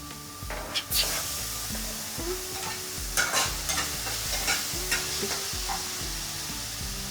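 Besan cheela batter frying in a pan, a steady close sizzle and hiss running throughout with a low rhythmic hum and intermittent clinks and scrapes of utensils on top.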